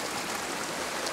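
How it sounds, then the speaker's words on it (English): Water pours from a small waterfall into a trough on a heritage project, a steady, dense rush and splash heard close up and unbroken throughout. "you can see now most of the water is now flowing down the trough."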